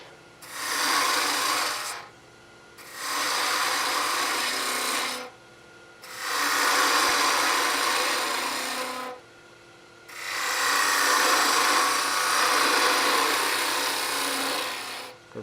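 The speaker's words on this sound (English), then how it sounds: "so I go back to my bowl gouge" A bowl gouge cuts a long cove in wood spinning on a lathe, producing four long rasping, shaving passes separated by short pauses, each strong and close.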